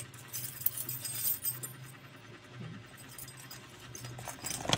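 Keys jangle and clink as they are dropped into a bag, a close, light metallic rattling in scattered bursts with no talk.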